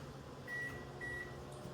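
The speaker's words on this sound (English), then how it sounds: "I put this in the microwave for about" A microwave oven heating sushi runs with a low, steady hum that stays faint and even throughout, with no voices over it.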